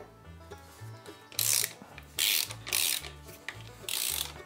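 A ratchet wrench clicks in steady bursts of rapid pawl ticks, alternating with louder grinding turns, while loosening the wheel of an electric motor; close and mechanical, with no talk.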